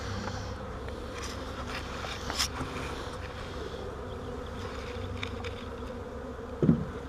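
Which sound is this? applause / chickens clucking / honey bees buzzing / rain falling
honey bees buzzing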